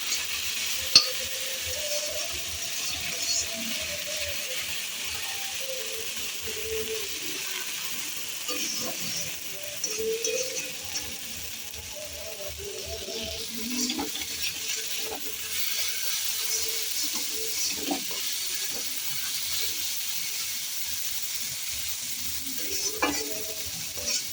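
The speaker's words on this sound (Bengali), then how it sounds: "তো এই যে আলু ভাজা বসিয়ে দিয়েছি আমি।" Potatoes frying in a pan give a low, steady sizzle with occasional stirring clatters and scrapes in a village kitchen, and soft speech is faintly present in places.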